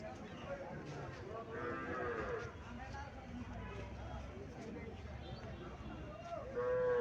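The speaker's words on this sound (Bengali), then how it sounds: "হরিয়ানা জাতের গাভী ইন্ডিয়ান হরিয়ানা" At a busy cattle market, a Haryana breed cow lows over a steady murmur of crowd talk and nearby voices, the moos drawn out and moderately close amid the bustle.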